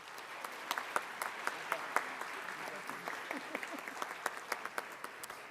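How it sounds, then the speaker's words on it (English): Audience at an education awards ceremony applauding steadily, a dense bed of clapping with sharp individual claps standing out, heard at moderate distance and fairly quiet, with a voice faintly in the room. "Let's give them a round of applause, please."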